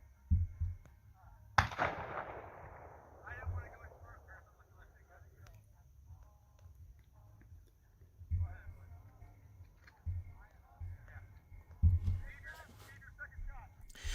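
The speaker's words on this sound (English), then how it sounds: "The guy who just got arrested recorded the neighbors shooting their guns." Neighbors firing guns into the air: one loud sharp crack near the start with a ringing decay, followed by fainter scattered bangs later, under ongoing talk and background noise.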